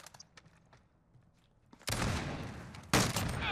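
Sniper rifle fire in Call of Duty Modern Warfare: soft footsteps give way to a sharp, loud shot with a lingering tail, then a second powerful blast about a second later.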